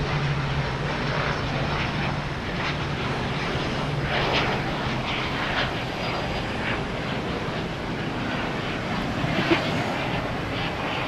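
A Hawker business jet at Boston Logan Airport gives off a steady, moderately loud engine roar with a faint low tone, sustained throughout at a middle distance.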